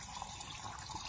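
Water pours steadily into a sprayer tank on a rice field, making a faint, continuous rushing and splashing sound with no voices.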